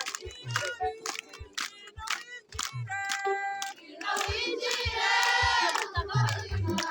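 A church choir and congregation clap in a steady rhythmic beat, with voices rising into loud cheering and singing partway through.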